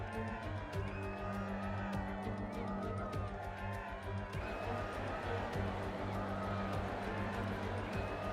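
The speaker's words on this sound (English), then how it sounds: "The hills are alive with the sound of engines." Video game Formula 1 engines at the Austrian Grand Prix, Spielberg circuit, drone steadily throughout, a continuous layered race-car roar with shifting pitch, loud and sustained with a faint crowd-like wash underneath.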